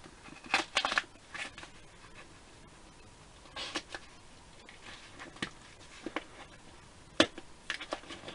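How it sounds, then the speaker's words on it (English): Scissors snip and slice open a cardboard mail package, making scattered short cuts and rustling scrapes, heard close and fairly quiet with pauses between bursts. "Got the scissors out."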